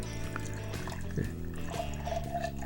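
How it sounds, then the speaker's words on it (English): Prosecco pours and trickles into a glass up close, a soft fizzy bubbling splash over a low, steady humming background. "But even the pour sounds good."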